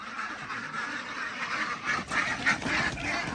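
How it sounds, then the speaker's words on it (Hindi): Ducks and geese at a ground-bird farm with crowned cranes and jungle fowl give a soft, distant run of honks and quacks, rising in bursts toward the end over a faint outdoor background. "तो काफी ज्यादा डक्स है यहाँ पे"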